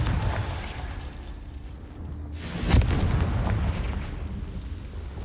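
In Hogwarts Legacy, a Confringo fire blast spell goes off as one deep boom near the middle, rising briefly out of a steady rumbling ambient background and then fading into the continuing low drone.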